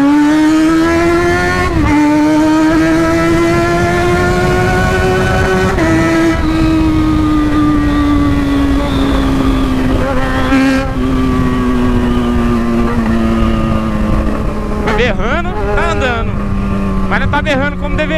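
Yamaha XJ6 motorcycle with a badly broken exhaust, its engine droning and revving steadily with a rough, loud, harmonic-rich note that rises and falls, nearby throughout, with someone talking over it.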